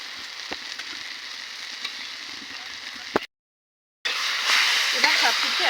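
Dried fish is stir-fried with ground onion-garlic paste and spices in a sizzling pan. The crackle cuts out for a moment, then returns fuller and louder, with a few sharp spatters.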